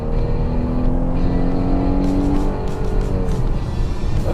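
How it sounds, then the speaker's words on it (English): A 2015 Chrysler 200 sedan launches hard from a standstill toward 60 mph with some wheel spin, its engine droning loud and close as the revs climb steadily, no talk over it. "There was some wheel spin."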